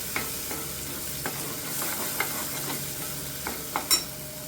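Brinjal roasting in a pan, a constant gentle sizzle with repeated light clicks and scrapes of a spoon stirring, close by and without any talking.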